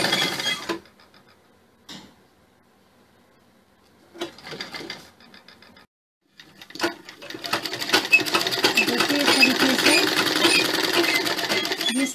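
A sewing machine stitches the corner of a sherwani collar: a few short bursts with pauses, then a long, steady, close run of rapid stitching.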